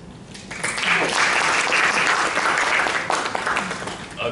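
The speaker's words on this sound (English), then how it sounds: "People will then spontaneously clap and you can go back to your seat." Conference audience breaking into spontaneous applause, a dense loud wash of clapping that swells quickly, holds steady, then begins to thin toward the end.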